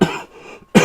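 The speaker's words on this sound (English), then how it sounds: "still got a little bit of a cough" A person coughs twice, a sharp burst at the start and another near the end, close and fairly loud with a quiet pause between.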